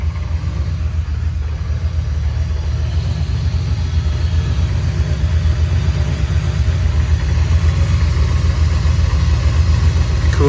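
A 1987 Camaro Z28 engine, freshly revived after sitting parked for nearly 30 years, idles steadily with a loud, continuous low rumble and no talking.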